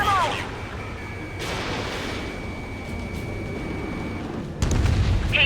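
Gunfire in the Ace Combat 7 video game, a loud burst of shots near the start and another heavy volley at the end, over a steady rumbling battle background with radio voices.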